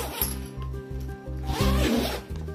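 The zipper on a black nylon Bailuoni tripod bag is pulled open in a string of quick, rasping strokes, close and clear, with no speech over it.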